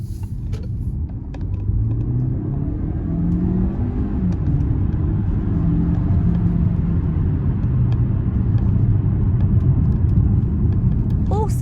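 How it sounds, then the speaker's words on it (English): A steady electric motor whine and road rumble hold throughout as a Peugeot 508 PSE SW performance hybrid accelerates, a continuous low hum with a faint rising pitch sweep. "the only sound coming from that overworked electric motor"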